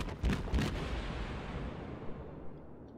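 Naval gunfire in World of Warships from the Ibuki: two heavy booming salvos in quick succession, followed by a long, fading rumble.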